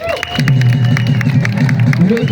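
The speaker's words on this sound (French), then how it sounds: "On applaudit le lieutenant Camarade" An audience at an outdoor holiday event in Dialakoro applauds Lieutenant Bakaramoko, with steady rapid clapping that keeps a busy crowd texture throughout, under a loud droning hum and a voice over the noise.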